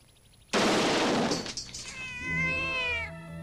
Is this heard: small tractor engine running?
no